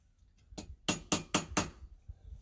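Four or five sharp, ringing hammer blows on metal at a forge land in a quick, even rhythm, with a short clank first and quiet afterward.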